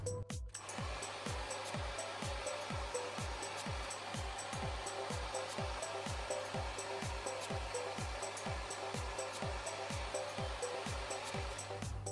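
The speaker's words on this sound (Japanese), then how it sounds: "ある程度根元が乾いたら、次は毛先を乾かしていきます。" Hand-held hair dryer blowing steadily while drying the ends of hair in a salon-style winter hair-care routine, a loud continuous airy roar with a rhythmic whooshing pulse as the airflow sweeps back and forth, close to the microphone.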